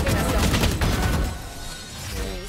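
Dense, rapid gunfire from a first-person shooter fills the scene with continuous overlapping shots and bursts, loud and close, fading slightly toward the end.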